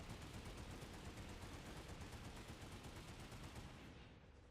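Automatic rifle fire in a video game infantry company drill, one long continuous burst of rapid shots, loud and dense, fading slightly at the very end with no voices over it.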